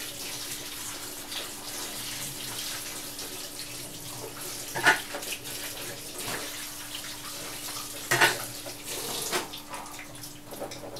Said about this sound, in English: I wash off them, wash off the liquid off the red kidney bean.